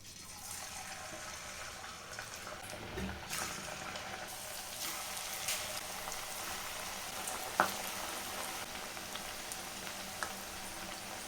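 Small lentil crisps (pappu billalu) frying in hot oil over a low flame, a soft, continuous sizzle and bubbling with a few faint clinks, fairly quiet and without speech.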